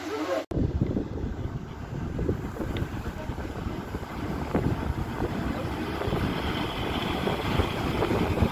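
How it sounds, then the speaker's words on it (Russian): Gusty wind buffets the microphone in a constant low rumble, with faint background noise and no clear talking. "Ветер холодный, да?"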